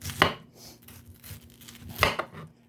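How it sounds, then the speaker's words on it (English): A knife cutting cabbage on a board for homemade sauerkraut: two sharp, close chops stand out, with softer cuts in between, in a quiet room without talk. "you're gonna cut your cabbage up"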